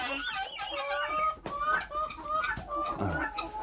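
Newly bought laying hens cluck steadily and fairly close, a dense overlapping chorus of short calls with a few sharper squawks.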